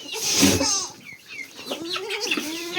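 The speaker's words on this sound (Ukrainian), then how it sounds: "Кури, вреднюри." Hens clucking and squawking close by, a burst of agitated calls followed by softer, irregular clucks.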